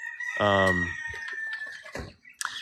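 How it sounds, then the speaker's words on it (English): A rooster crows loudly and close by with a long drawn-out call, followed by shorter clucks and fowl sounds, on a Maui morning. "The rooster, yeah, they're up bright and early, way before us."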